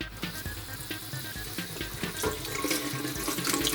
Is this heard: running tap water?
yes